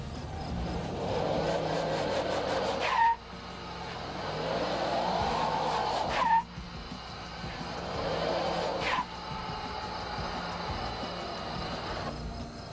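Four-wheel drive Toyota Tacoma pickup driving, engine droning and rising in three long accelerating pulls, each ending in a sharp shift or jolt, steady and moderately loud with no talk.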